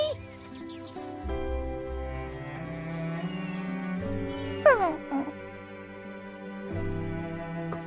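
A small dog whimpers and yips in the video game Infinity Nikki, short high cries over soft background music, with a couple of sharper squeals midway.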